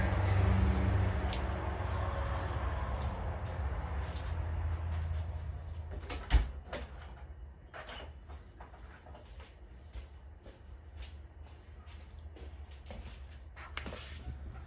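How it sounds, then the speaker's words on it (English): A bedroom door flies open with one sharp knock midway, letting in a steady low rumbling noise from the room behind; no one speaks. "My door flew open and it's loud back there."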